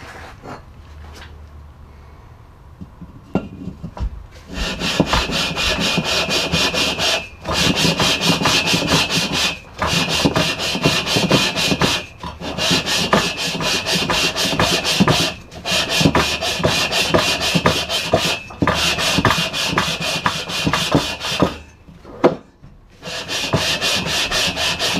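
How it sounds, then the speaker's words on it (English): Steady, loud abrasive scrubbing as an aluminum cylinder head from a 1969 VW Beetle is lapped by hand on abrasive laid over glass, in long continuous passes broken by brief pauses. "Put it on a piece of glass in order to do that, so I know that it will give me a good scrub of the mating surface on the aluminum head"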